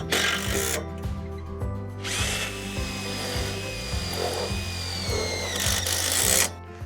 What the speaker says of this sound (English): we'll be using our self-tapping screws to secure it into the bow.